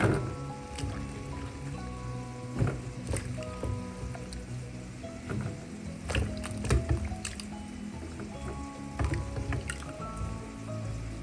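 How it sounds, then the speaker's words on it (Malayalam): Soaked brinjal pieces are squeezed by hand to wring out the water, giving soft wet squelches, drips and splashes into a vessel in an irregular, close-up rhythm. "വെള്ളമെല്ലാം മാറ്റി നമുക്കൊന്ന് പിഴിഞ്ഞ് പാത്രത്തിലേക്ക് മാറ്റാം"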